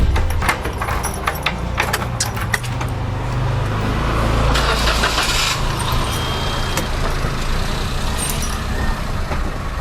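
A car engine runs close by as the car is taken out along a narrow road, a loud steady low rumble with some clinks and rattles.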